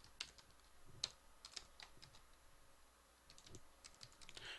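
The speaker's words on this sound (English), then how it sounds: "make sure I don't type anything wrong" Fingers typing on a computer keyboard while Java code is entered, producing quick, light, irregular clicks that come in short runs and pauses and are heard close and alone.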